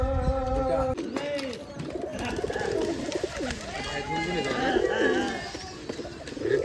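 Black Jag pigeons at a farm in Rajshahi giving soft, repeated throaty coos, close and fairly clear, with a brief tonal hum at the start and some background voices mixed in.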